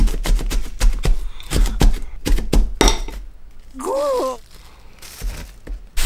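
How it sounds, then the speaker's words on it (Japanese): A knife finely chopping onion on a cutting board in a home kitchen: a quick run of crisp, close taps, then a short voiced sound before the chopping resumes faintly. "次に玉ねぎをみじん切りします"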